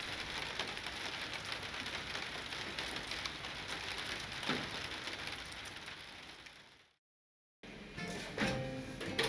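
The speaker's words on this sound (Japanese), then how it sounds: "外は冷たい雨が降っている。" Cold rain falling outside an old sixty-year-old Japanese-style rented room, a steady soft hiss of drops on surfaces throughout, then a brief silence before faint household sounds return.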